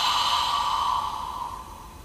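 A single slow, deep breath out, a soft airy exhale that starts strong and gradually fades over about two seconds, close to the microphone and with no one talking.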